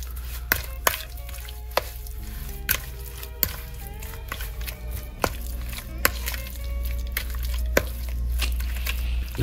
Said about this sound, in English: Go ahead and give that a big stir.